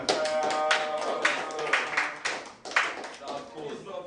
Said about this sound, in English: The round of applause.